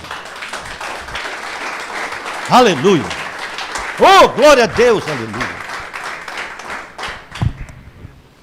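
A church congregation applauds during a Portuguese-language sermon, a broad continuous clapping bed under a preacher's loud, sung exclamations that rise and fall, fading toward the end.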